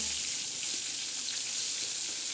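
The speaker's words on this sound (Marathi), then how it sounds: "असे लालसर आणि खरपुसाचे आपले मच्छी तळ्या गेलेले आहे" Continuous bright sizzle of mackerel frying in oil until crisp, an even, crackling hiss at close range with no pauses or voices.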